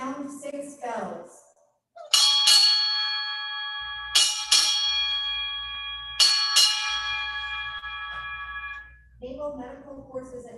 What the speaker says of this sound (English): Sound 6 bells.